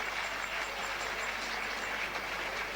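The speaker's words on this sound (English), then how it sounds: "come on, a big round of applause" A boxing crowd in Melbourne applauds after a fight, a constant roar of clapping and cheering that stays loud and unbroken throughout, with a faint steady hum underneath.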